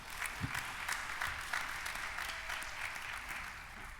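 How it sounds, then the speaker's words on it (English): A synagogue congregation at Congregation Beth Yeshurun in Houston breaks into sustained applause, a steady dense clatter of many hands filling the room for several seconds. "Was not expecting the applause."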